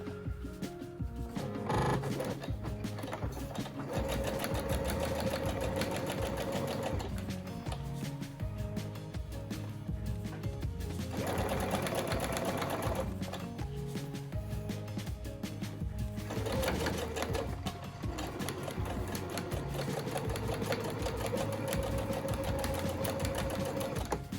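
A sewing machine stitches an aluminum nose plate guide into a bat wing mask, running in several quick bursts of rapid, mechanical whirring separated by short pauses, fairly quiet and close.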